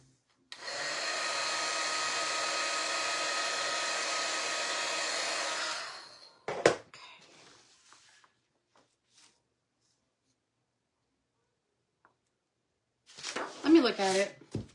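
A hair dryer blows steadily and loudly on a lamb-shaped cutting board for about five seconds, then cuts off, followed by a few handling clunks and, near the end, a voice speaking.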